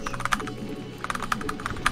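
Rapid computer keyboard key presses from StarCraft gameplay, a near clatter of irregular bursts of quick taps with brief pauses between them, loud and clear with no talk.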